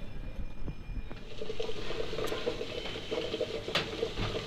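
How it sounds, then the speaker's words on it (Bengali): Water boiling in a pot to sterilize a baby bottle, a steady bubbling, rolling simmer with light crackles and occasional clinks, close and moderately quiet. "এই যে বোতল ফুটিয়ে নিচ্ছি"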